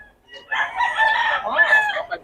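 A Sweater gamefowl rooster crows once at close range, a loud full cock-a-doodle-doo lasting about two seconds, heard alone.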